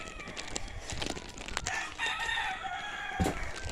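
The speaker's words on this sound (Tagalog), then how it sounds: "Ay, manok yun, si Rama." A rooster crows outdoors at a moderate distance. One drawn-out cock-a-doodle-doo rises over background rustling and scattered knocks, and a closer thump comes near the end.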